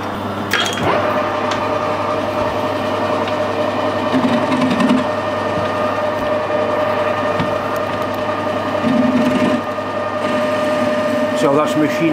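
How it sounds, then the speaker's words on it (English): Lathe machining of a bronze valve part, a continuous mechanical whir and hum with a steady tonal whine, and two brief raspy bursts where the cutting tool bites into the metal. "then we can machine it down and put some threads into it"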